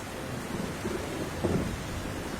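Thunderstorm with heavy rain, a dense steady wash of falling rain with low rolling thunder rumbles swelling twice, close and continuous.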